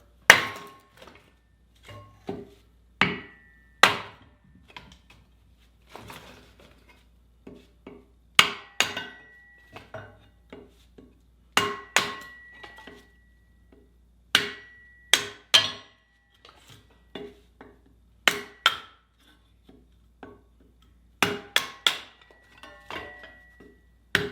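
Sharp hammer blows strike a kindling cracker again and again at an uneven pace, each crack splitting wood into kindling, close and loud with quiet gaps between strikes.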